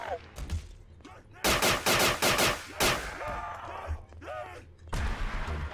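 Bursts of rapid gunfire in a Call of Duty Nazi Zombies mode played in Garry's Mod, several loud volleys in quick succession, mixed with excited voices talking and shouting.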